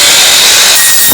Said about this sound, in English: Using an ordinary chop saw, such as carpenters use, you can cut aluminum because it is a soft metal without damaging your blade